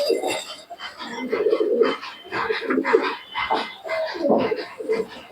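Pigeons, including roller pigeons, coo repeatedly in low, throaty bursts, fairly close, with several birds overlapping in a steady murmuring rhythm.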